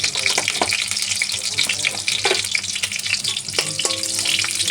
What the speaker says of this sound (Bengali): কালো জিরে ফোড়ন দিলাম, কাঁচা লঙ্কা দিলাম